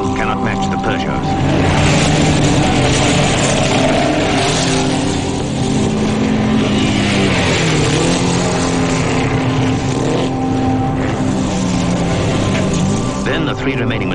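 Early racing cars, a Delage and Peugeots, roar past in a continuous dense engine drone from about 1914, with a commentator talking over the noise throughout.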